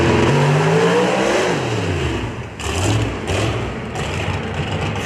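A drag racing car making a pass at Darana Motorsports Park, its engine roaring loudly and then fading with shifting pitch, followed by more engine surges. Background noise stays high throughout.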